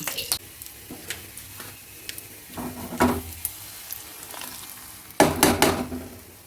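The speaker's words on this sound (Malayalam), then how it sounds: "അതിലേക്ക് നമുക്കിപ്പം കടുക് പൊട്ടിച്ച് ചേർക്കണം" Mustard seeds crackling in hot oil for a beetroot pachadi, heard as a series of sharp pops and spits over a low sizzle, with a louder burst of rapid crackling near the end.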